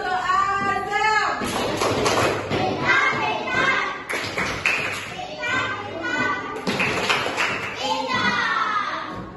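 Primary classroom children perform a rhythmic patterned 'smart clap' for a pupil, bursts of sharp synchronized claps separated by children's chanting voices, repeated in several rounds close by.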